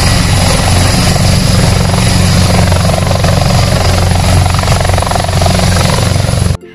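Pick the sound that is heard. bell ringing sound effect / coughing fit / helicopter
helicopter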